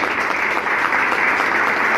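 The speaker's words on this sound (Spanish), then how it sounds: "¿Le damos un aplauso al Señor?" Applause from a church congregation fills the space, a dense, steady wash of many hands clapping at close range with no pauses.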